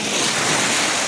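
Waves breaking on a Lake Superior beach, a loud, continuous wash of surf close by with wind buffeting the microphone.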